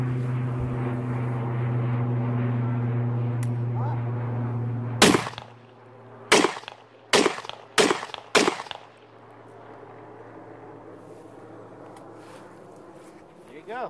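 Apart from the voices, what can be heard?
SKS rifle gunshot fired from the shoulder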